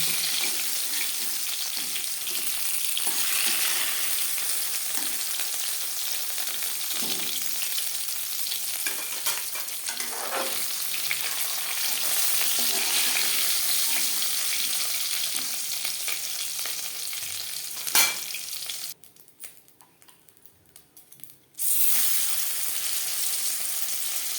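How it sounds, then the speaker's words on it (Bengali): Pieces of silver carp frying in hot oil in a kadai, a steady close broadband sizzle with occasional clatter, briefly dropping out near the end before resuming. "পরের মাছ একইভাবে ভেজে নেব"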